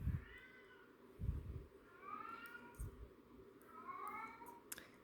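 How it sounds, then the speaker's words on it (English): A male cat shut in another room meows several times, muffled and fairly distant, with the drawn-out cries spaced a second or two apart against a quiet indoor background. "If you hear my cat in the background"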